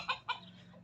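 Chickens and a rooster in a backyard pen, two short clucks close together and then quiet, faint and brief.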